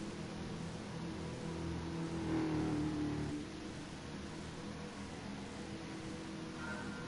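Racing cars pull away together at Bathurst's Mount Panorama circuit in Gran Turismo Sport, a steady engine drone swelling briefly as the pack accelerates, then settling into an even, continuous roar.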